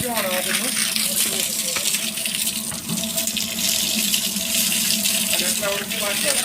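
Water is poured over mares as they are bathed, a steady rushing splash that runs continuously and fairly close throughout.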